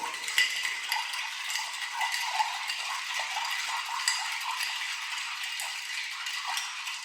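A spoon stirs a cocktail made with bitters in a glass at a Disney resort lounge. It gives a faint, steady clinking and rattling of metal against glass with small irregular taps and no speech.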